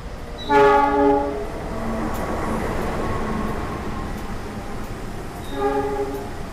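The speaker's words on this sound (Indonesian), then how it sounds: "Ternyata yang baru masuk ini adalah kereta api Harina ya teman-teman" A Harina passenger train pulls into Cepu station, opening with a loud two-tone horn blast, then a sustained rumble of rolling wagons, and a second horn sounding near the end.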